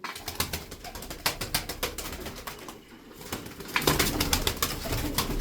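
Domestic fancy pigeons, blue and mirror-tailed play birds in a loft, coo and rustle nearby, with steady low cooing, scattered wing flutters and clicks that grow louder and busier toward the end.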